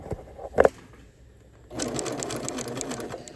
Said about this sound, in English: I'm using about a 3mm stitch length on my machine.